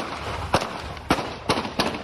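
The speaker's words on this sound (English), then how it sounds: "A second later, the sound of gunshots." Four sharp gunshots crack in an uneven sequence, fairly loud with short gaps between them and a faint background hum.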